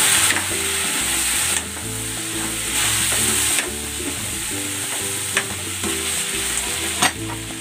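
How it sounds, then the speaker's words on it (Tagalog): Chicken pieces and tomato sautéing in a hot pan for a chicken pochero, with a steady loud sizzle and scraping stirring bursts throughout and no talk. "Gigisa ko na rin tong kamatis. Ilalagay ko na dito itong chicken."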